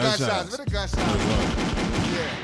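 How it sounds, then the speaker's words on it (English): A gunshot sound effect bursts in as a loud rapid volley of gunfire right after a brief snatch of talk, then trails into a noisy rumbling echo. "Gunshots."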